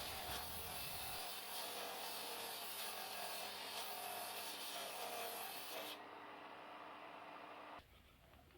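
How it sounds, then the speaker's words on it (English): Wooden dowels are sanded down for cabinet hooks, giving a continuous close, loud abrasive rubbing that shifts in tone partway through and then cuts off near the end. "I'm just sanding down some dowels which I'm going to use for the hooks"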